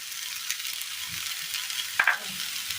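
Roasted coconut being stirred into a Kerala curry in a pan, with a steady close sizzle under soft scraping and a sharp clank of the spoon near the end.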